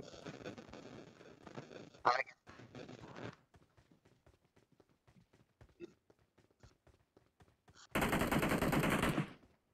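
Gunfire in PUBG Mobile: sharp single shots crackle at irregular intervals, some faint and distant, between stretches of talk, ending in a loud burst of sustained noise.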